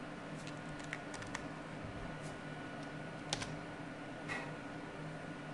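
Faint, sparse typing on a computer keyboard at a point-of-sale station, with scattered soft key clicks that come in small bursts over steady background hiss and no talk.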